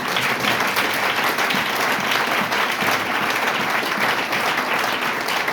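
A Pentecost church congregation in Pointe-Noire applauds. The clapping is loud, dense and steady, with a crowd's sustained clatter throughout and no break.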